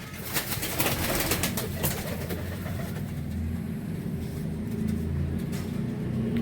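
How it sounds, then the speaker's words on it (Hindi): Teddy and a few Ferozpuri pigeons in a small loft give low, soft cooing over a steady background hum and rustle, continuous and fairly close, with no voices. "यहाँ पे तकरीबन सारे टैडी कबूतर और चंद एक फिरोजपुरी हैं"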